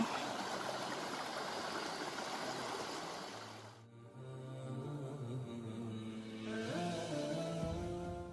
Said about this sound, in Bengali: এই তো ঝর্নার পানি প্রবাহিত হয়ে আসছে